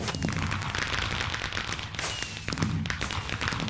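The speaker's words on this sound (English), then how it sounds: "Oh, fireworks again." Fireworks go off in the Minecraft video game at New Year, a dense run of cracks and thumping bangs that keeps firing in bursts throughout.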